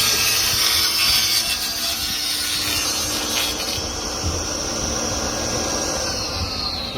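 A Festool table saw cuts through wood with a steady, high whining rasp, close and loud, over the constant hum of a dust extractor, fading slightly toward the end.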